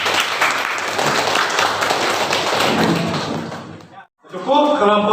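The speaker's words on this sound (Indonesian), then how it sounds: "Oke, tepuk tangan untuk kelompok 1." A classroom audience claps for a presenting student group at a university session, a loud dense burst of applause that fades after a few seconds, then a brief silence and a voice starts talking.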